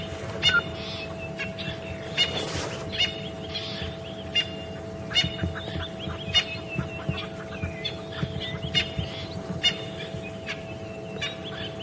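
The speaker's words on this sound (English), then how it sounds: "all the birds are very upset to have these predators in their vicinity" Agitated birds give repeated sharp alarm calls and chatters in the bush near lions on a morning safari drive, steady and moderately close over a low constant engine-like hum.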